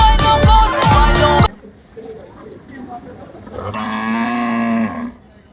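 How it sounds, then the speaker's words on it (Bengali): Cattle at a Qurbani cattle market: loud shouting voices at first, then after a lull a drawn-out, close bellowing moo lasting over a second amid a busy, crowded background. "গরু আইলো গরু আইলো গরু আইলো"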